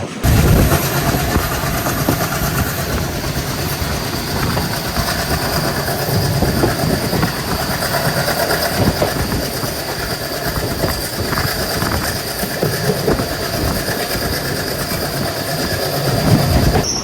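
Velankanni Express running from Kottayam toward Ernakulam, heard from inside as a steady, loud rumble of rolling carriages with rhythmic clickety-clack of wheels over rail joints and occasional faint wheel squeal throughout.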